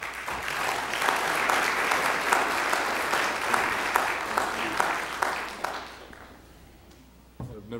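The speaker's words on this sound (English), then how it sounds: "I've never gotten a round of applause before" A church congregation at Peace Church gives a warm round of applause that builds, holds steady for several seconds, then fades away, followed by a brief knock and soft sounds near the end.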